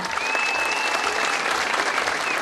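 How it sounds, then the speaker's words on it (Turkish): An audience at a municipal sports facility opening ceremony bursts into loud, dense applause with crowd cheering, and a high whistle rises above the clapping. "Bir alkışlayalım mı?"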